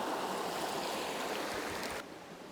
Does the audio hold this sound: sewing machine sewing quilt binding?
no